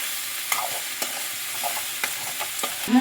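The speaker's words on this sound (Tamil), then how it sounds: "இப்போ வந்து நல்லா பெரட்டி விட்டு சிம்மில் வச்சே வேக விடணும் வெண்டைக்காயை" Okra being stirred and cooked in a pan with chilli powder, giving a soft steady sizzle under scattered light scraping taps of a spoon against the pan, close and fairly quiet, with no talking.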